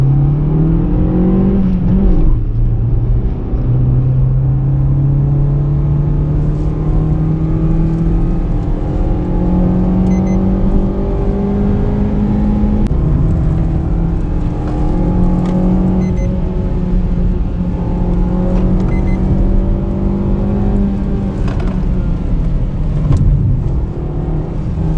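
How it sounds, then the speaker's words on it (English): The naturally aspirated engine of a 2021 Maruti Swift facelift hums and growls steadily and loudly for the whole stretch, with gentle rises and dips in pitch as it revs, and no talking over it. "let you hear the sound of the beautiful naturally aspirated"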